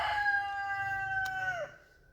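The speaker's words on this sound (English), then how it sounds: "Sorry about the roosters." A rooster crows once in a long, clear drawn-out call that holds steady and then drops off, loud and fairly close, with a steady low hum underneath.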